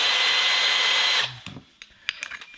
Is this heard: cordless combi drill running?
yes